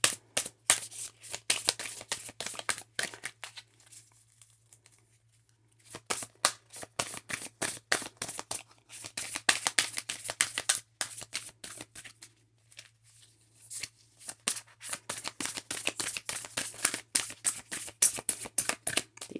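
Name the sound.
tarot cards being shuffled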